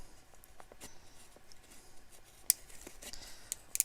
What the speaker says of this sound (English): we're going to be cutting that all away with the scissors anyway